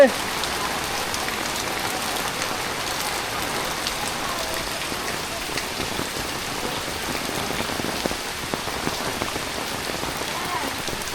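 Heavy morning rain falls on a village, a steady, dense hiss of drops on surfaces that stays even and close throughout with no voices.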